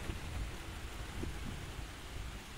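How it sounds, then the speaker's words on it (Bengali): Heavy rain pours steadily at a budget eco resort near Dhaka, a dense, even hiss of downpour with low rumbling underneath, continuous throughout and fairly quiet overall. "সেই রকম বৃষ্টি হচ্ছে অনেক বেশি"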